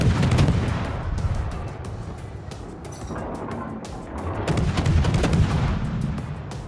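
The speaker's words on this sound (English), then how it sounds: "You get a good rate of fire, but you have very slow shell velocity." Naval gunfire from the USS Atlanta cruiser in World of Warships, a dense, continuous volley of rapid booming shots that rolls on loudly throughout with no pause and no talking.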